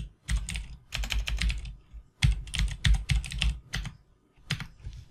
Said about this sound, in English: We just type in the host name for the Wheeler cluster.